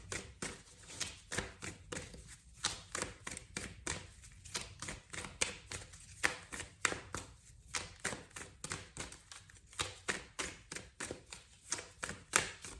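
Affirmation cards are pulled and handled, giving a long run of rapid, rhythmic riffling flicks in quick bursts, close and fairly quiet, with no one talking.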